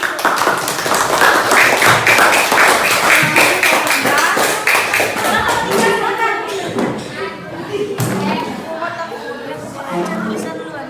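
A group claps together in a lively, dense burst of applause that runs for several seconds before thinning out, with chatter and voices continuing underneath.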